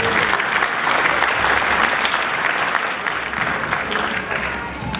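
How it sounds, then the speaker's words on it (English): An audience at a charity fundraiser applauds warmly and steadily, a full, close wash of clapping lasting throughout with faint crowd voices beneath. "Give a big round of applause"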